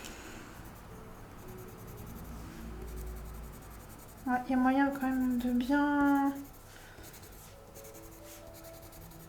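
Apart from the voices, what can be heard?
pencil coloring pressed hard on paper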